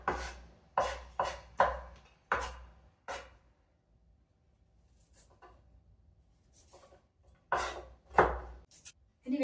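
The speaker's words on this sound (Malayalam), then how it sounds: "അത്ര ചെറുതായിട്ടൊന്നും അരിഞ്ഞെടുക്കണ്ട" Knife chopping vegetables for soup on a board, with quick bursts of several sharp chops, a pause of softer handling noise, then more chops. Close and fairly loud, with no talk.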